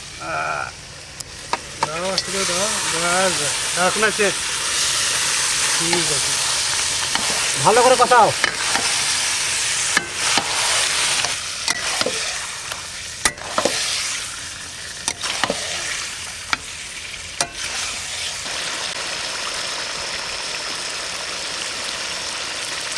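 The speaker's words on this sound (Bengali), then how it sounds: "গ্রেভিটা সুন্দর হয়ে গেছে এবার দিয়ে দেবো মটন" Mutton stirred and frying in a thick gravy at an outdoor family picnic cook-up, with a continuous sizzle, intermittent scraping of a spoon against the pot, and people chatting briefly over it.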